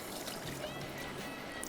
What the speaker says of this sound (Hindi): सिरका इसमें 1 कप,